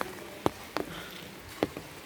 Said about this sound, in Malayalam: പെട്ടെന്നാണ് ഒരു മഴ വന്നത്